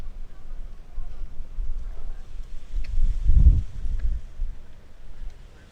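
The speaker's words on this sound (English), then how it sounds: "A windy afternoon here at Huron Community Center" Gusty wind buffets the microphone at an outdoor football match at Huron Community Center, low rumbling surges rising and falling, loudest midway, with no clear talk.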